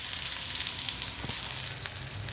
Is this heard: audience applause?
no